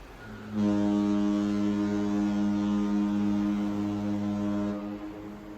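The Emerald Princess cruise ship sounds its foghorn at sea, one long, steady, deep droning blast of several seconds that starts abruptly, holds level and cuts off, with faint wind and sea noise around it.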